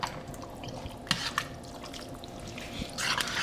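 Homemade chili with beef soup and canned green chilies stirred in a pot, soft wet sloshing and scraping with a few sharper clinks of the spoon, close and quiet, no talking.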